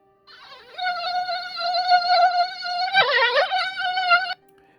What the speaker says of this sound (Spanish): Los mosquitos son desesperantes.